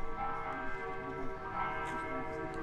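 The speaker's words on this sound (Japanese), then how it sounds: "なんでずっと鐘の音鳴ってんの、マジで" A church bell rings continuously near a hotel in a natural setting, with layered, sustained tones that hum steadily throughout, moderately loud and close, with no talking over it.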